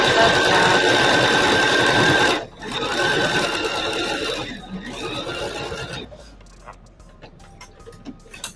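A sewing machine stitches fabric pieces for a freezer paper foundation piecing demo, a loud steady mechanical whir that pauses briefly, resumes, then fades to quiet handling sounds near the end.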